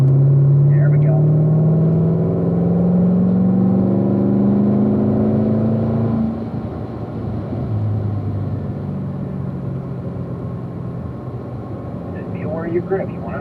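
A Corvette race car engine drones steadily from inside the car on a racetrack, its pitch climbing under acceleration before easing off, with an instructor talking over the continuous rumble.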